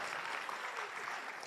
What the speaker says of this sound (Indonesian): Tepuk tangan buat Padang.